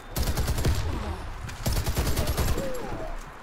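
An M60 machine gun in the video game Warface fires several rapid bursts of automatic gunfire, close and punchy, with short pauses between the volleys.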